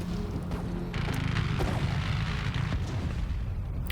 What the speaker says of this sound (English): you call in the airstrike on that little shack up on the hill